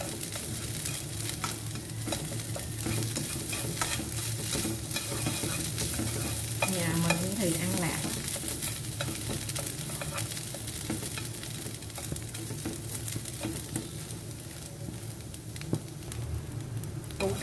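Pickled radish frying in a pan sizzles steadily and close, with a spatula stirring and scraping against the pan throughout.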